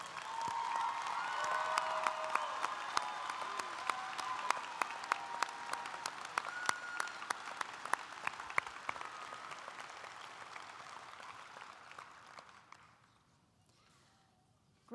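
A crowd at a community college commencement applauds honors students, sustained scattered clapping in a large hall that carries on for about twelve seconds before fading out into quiet room tone.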